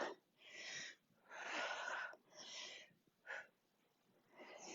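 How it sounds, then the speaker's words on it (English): Heavy, rhythmic breaths from someone in a Tabata circuit workout with weights, a series of loud, close exhalations and inhalations with brief pauses between them. "You can hear me breathing."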